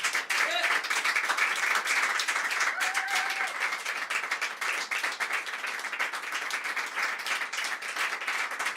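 A live concert audience applauds in a long, steady run of clapping, dense and fairly even throughout, with a few faint voices mixed in.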